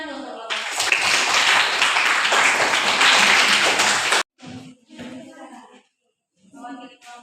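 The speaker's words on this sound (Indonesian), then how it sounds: "Sekarang lanjut ke tepuk tangan dulu untuk kelompok satu" A classroom claps for a student group, loud and continuous for about four seconds before stopping abruptly, followed by brief speech.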